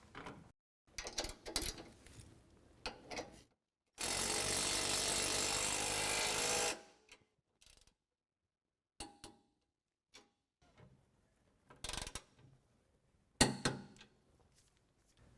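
Factory flag nut on a 2018 Ford F-150 ICON coilover being tightened and torqued, with scattered clicks and clanks of tools, then a loud steady power-tool burst of about three seconds and a few sharp knocks after.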